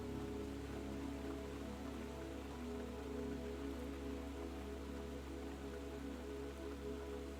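Rain from a night storm falls steadily outside a pottery studio, a soft, even, unbroken patter and hiss at low volume, with no voices or other sounds.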